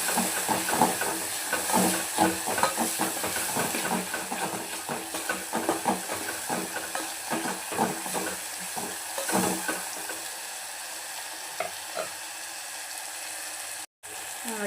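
Red chili powder and ground masala fry in hot oil for a mutton curry, a dense close sizzle with rapid rhythmic scraping of a spoon stirring the pan, loud and continuous, tapering slightly toward the end, with no talking.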